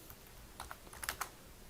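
Quiet computer keyboard typing during a CAD elevation drawing, a few soft, scattered key taps clustered in the second half of a short, hushed moment.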